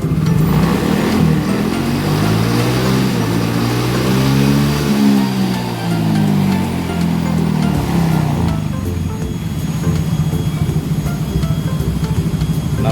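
A Yamaha Soul GT scooter engine with an overcharging fault is revved with the throttle, its pitch climbing and falling in a loud, close sweep before settling into a steady idle.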